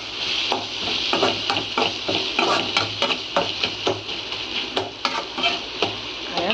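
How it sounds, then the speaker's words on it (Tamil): Curry leaves drop into a sizzling tomato masala for a mushroom dish and are stirred. A steady, close frying hiss runs throughout, broken by repeated sharp scrapes and taps of a spoon against the pan. "இப்போ நான் கறிவேப்பிலை சேர்த்துக்கிறேன்"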